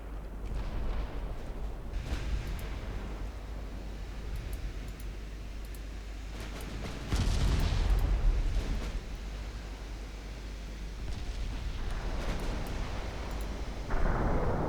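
Enemy warships firing in the naval battle game Ultimate Admiral Dreadnoughts, a low rumbling barrage of distant gunfire with heavier booming blasts rising out of a steady din of battle noise.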